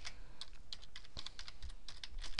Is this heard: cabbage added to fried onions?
no